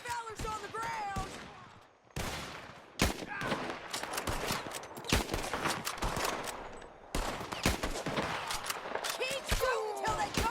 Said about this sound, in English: Keep shooting till they don't get us!